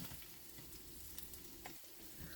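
Bitter gourd (ampalaya) frying in a pan gives a steady, close sizzle and crackle with small spattering pops throughout, no voices over it.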